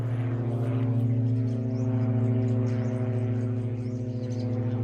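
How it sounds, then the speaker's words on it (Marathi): Propeller aircraft droning overhead with a steady low hum, heard clearly and continuously with faint birdsong in the background. "आज विमान लईच फिरते सकाळी"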